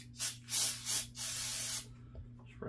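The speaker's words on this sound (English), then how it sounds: "I'm going to take and spray my bolt down." Brake cleaner sprayed from an aerosol can onto an AR-15 bolt, three short bursts followed by a longer sustained hiss, close and loud, then quiet.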